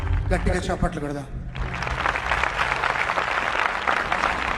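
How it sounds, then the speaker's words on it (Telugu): A church congregation claps loudly and continuously in a dense, sustained wave of applause, following a preacher's raised voice. "గట్టిగా చప్పట్లు కొడదాం."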